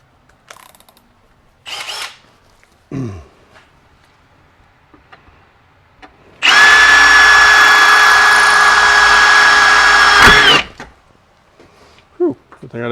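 A power drill with a dull bit bores into a car fender in one sustained, loud whining burst of about four seconds, set between quiet stretches with scattered clicks, taps and handling noises.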